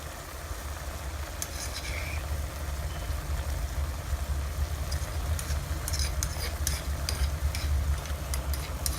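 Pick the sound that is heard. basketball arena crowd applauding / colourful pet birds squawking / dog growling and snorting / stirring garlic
stirring garlic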